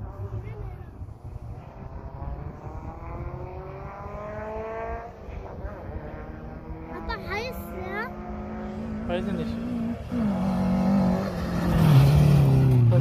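Race cars accelerating at a motor racing sport day in Berlin, engine tones rising in pitch and growing louder toward the end, with crowd noise and voices talking throughout.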